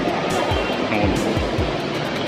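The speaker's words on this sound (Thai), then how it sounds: "มีน้ำตกตรงนี้ได้เนี่ย" An indoor waterfall inside the Future Park Rangsit shopping mall gives a steady, dense rush of falling water that fills the whole clip with no talk over it.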